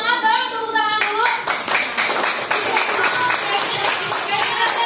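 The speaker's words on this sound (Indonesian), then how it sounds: "Kasih semangat dong, tepuk tangan dulu." A classroom of students clapping their hands together, a dense burst of lively applause running throughout, with a voice speaking briefly at the start.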